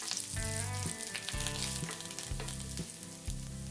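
Garlic, green chillies, dried red chillies and curry leaves frying in hot oil, a continuous loud sizzle with a recurring low thudding pattern underneath, no voices.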